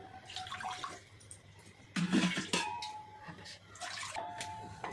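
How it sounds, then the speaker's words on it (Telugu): Water from two glasses pours and splashes into an idli steaming pot in a few short gushes, faint and close, with quiet clinks between. "గ్లాసుల వాటర్ పోసుకుందాము"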